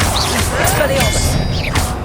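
A spell effect from a Harry Potter video game, the disarming charm: a loud burst with a swooshing and crashing texture that holds steady for about two seconds, mixed with game voices.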